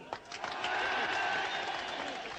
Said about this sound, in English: A great big cheer, Peter Crane.